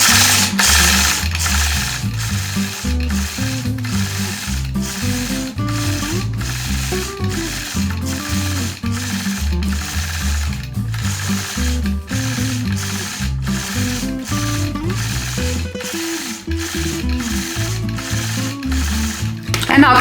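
A sewing machine runs continuously and loudly while free-motion quilting a pine tree motif across a 2-inch fabric strip, its needle producing a fast, steady mechanical chatter with slight speed changes throughout.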